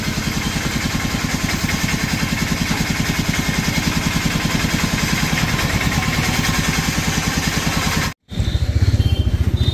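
A motorcycle engine runs close by at a steady, throbbing idle-to-cruise rhythm as riders head out onto a road in Kashipur, cutting briefly to silence near the end before a rougher engine burst resumes.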